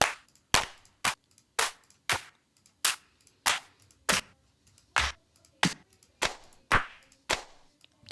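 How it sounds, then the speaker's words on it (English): Clap samples from a drum rack played in a steady repeating pattern, a dozen or so crisp sharp hits at even intervals, loud and dry with no talk. "Yes, that type of clap and something similar."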